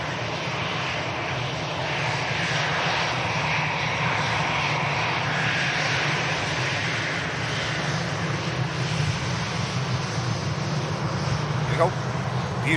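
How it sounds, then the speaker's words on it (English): A departing airliner nicknamed Queen of Hearts, bound from Manchester Airport to Orlando, roars steadily and loudly throughout with a broad, sustained engine rumble; someone talks faintly over it. "Queen of Hearts lined up for departure to Orlando"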